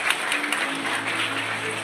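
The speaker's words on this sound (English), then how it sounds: "Kindly give them a big round of applause." Audience at a school prize distribution ceremony applauds in a brief, dense, steady burst of many hands clapping, heard from within the hall.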